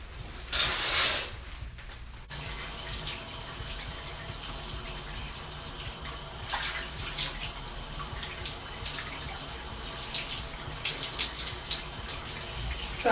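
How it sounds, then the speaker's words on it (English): Running water from a tap or shower while hair is washed with Cantu sulfate-free shampoo, a steady continuous rushing stream after a brief louder splash at the start. "the first thing I'm going to do is wash my hair"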